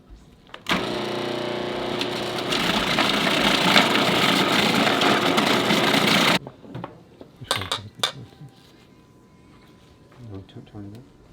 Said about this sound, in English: So on the food processor, this is the shredding tool.